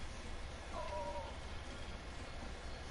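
A single faint, short meow from a cat in a video game house, heard against a steady low background hum with no talking.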